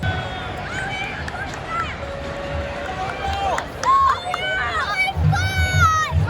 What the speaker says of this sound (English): Those little kids behind me have been shouting for Mario Götze basically this whole half.